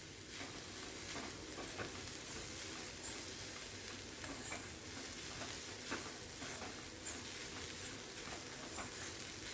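Onion dry-roasting with no oil in a kadhai for a Malvani-style clam curry, a steady close sizzle broken by repeated scraping stirs throughout, with no voices.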